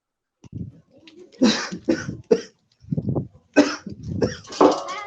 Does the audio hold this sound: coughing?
yes